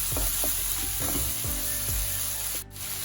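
Sliced bitter gourd frying in a pan, stirred repeatedly with scraping strokes over a steady sizzle, close and fairly loud, with no voices.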